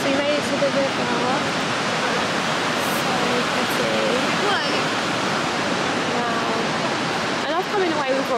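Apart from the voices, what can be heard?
river water flowing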